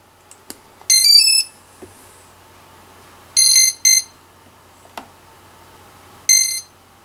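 Electronic speed controller calibration tones at full throttle: three short bursts of high-pitched multi-tone beeping separated by pauses, with faint clicks between, loud and alone.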